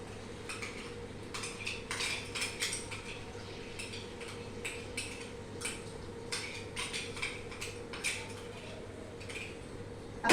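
A spoon clinks and scrapes against a cooking pot as spice paste goes into tomatoes and onions softened in ghee for dhansaak, with irregular bright metallic taps over a low steady hum.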